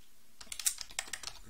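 Quick taps on a computer keyboard: a short burst of about a dozen crisp, close keystrokes in an uneven rhythm, following a brief quiet pause.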